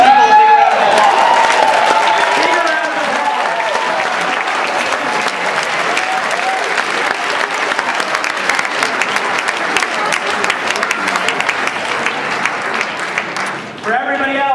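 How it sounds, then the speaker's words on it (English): An audience bursts into loud, sustained applause that fills most of the stretch, a dense wash of clapping with a bit of cheering, before a voice briefly cuts in near the end. "Give these people a big round of applause."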